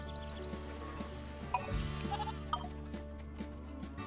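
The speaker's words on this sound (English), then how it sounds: "Save the sheep." Cartoon sheep bleating in the farm management video game Ranch Rush, several short bleats at irregular intervals over a quiet background of game music and effects.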